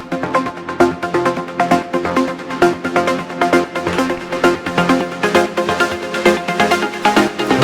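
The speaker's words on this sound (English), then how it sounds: "So all these leads are layers, and together they sound like this." Several layered synth lead parts play together in Ableton Live, loud and rhythmic, with bright pulsing notes stacked over a steady beat and no voices.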